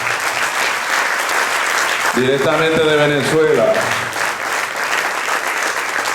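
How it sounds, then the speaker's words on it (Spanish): A church congregation applauds in a steady, broad wash of clapping that runs throughout, while someone speaks briefly over it in the middle. "Yo invito a la iglesia a que lo reciba con un aplauso."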